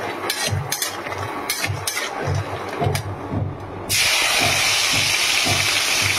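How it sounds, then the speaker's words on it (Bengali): Lentil dumplings (bori) fry in hot oil with a steady crackling sizzle and rhythmic low thumps, then a loud, broad hiss surges up and continues to the end. "এখানে বড়িগুলো ভেজে নিচ্ছি।"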